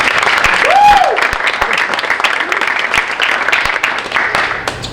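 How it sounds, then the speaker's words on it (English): Applause from a gathering at a Division I national letter of intent signing for a young athlete, a busy patter of claps with sharp individual hits throughout, plus a brief rising and falling whistle-like tone near the start. "So a round of applause for Jules"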